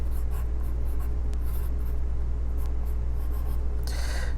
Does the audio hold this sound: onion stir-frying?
no